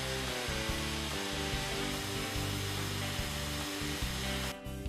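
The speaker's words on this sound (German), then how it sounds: "So macht das Bohren Spaß." A drill fitted in a Wolfcraft Tecmobil drill guide bores into tiles with a continuous, loud whining motor hum and a buzzing grind that shifts pitch slightly, running steadily until a brief drop at the end.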